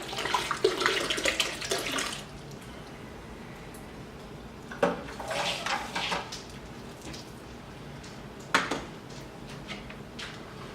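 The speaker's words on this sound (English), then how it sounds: "push that little button and then push it down in the bottom of the bottle just like normal" A beer gun bottle filler fills a bottle with homebrew beer from a keg, giving bursts of hissing, gurgling liquid flow that start and stop three times, with quieter gaps between fills.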